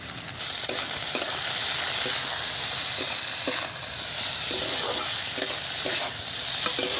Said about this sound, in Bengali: পেঁয়াজ ভাজা হয়ে গেছে, আলুগুলো দিয়ে দিচ্ছি।